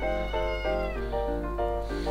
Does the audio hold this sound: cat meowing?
yes